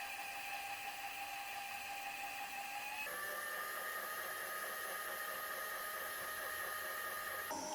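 A stand mixer kneads galette dough with a continuous close motor whine that steps up to a higher speed partway through and holds steady, with no talking.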